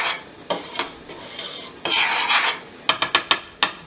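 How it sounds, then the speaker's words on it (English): A spoon stirs thick cranberry sauce in a pot, scraping and rasping in irregular strokes with several sharp metallic clinks of the spoon against the pot near the end. "Just going to stir that a little bit."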